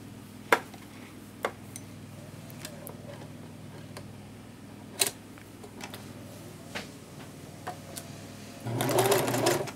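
A sewing machine stitches a fabric drawstring bag with a soft steady whir, broken by a few sharp clicks and taps, while louder outdoor lawn-care noise swells in near the end.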